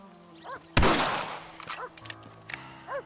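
A single loud rifle shot from a Red Dead Redemption farm scene cracks sharply and then decays over about a second, with faint ambient birdsong before and after the shot.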